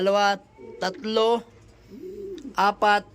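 Homing pigeons arriving at a loft in Agoo, La Union give a soft, low coo between bursts of someone talking nearby.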